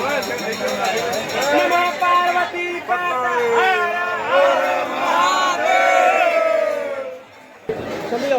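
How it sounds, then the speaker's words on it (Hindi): A large, packed crowd at Harsiddhi Mata temple during the evening aarti, many voices chanting and calling out together in loud, rising and falling devotional cries, sustained throughout with a brief dip near the end. "बाकी भीड़ भी बहुत ज़्यादा थी इस टाइम"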